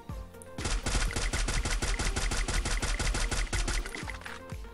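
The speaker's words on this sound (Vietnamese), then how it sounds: "Bên kia cũng có người đang bắn vào." Rapid automatic gunfire from enemies in the mobile shooter Free Fire, a loud, close burst of evenly spaced shots lasting several seconds before stopping abruptly.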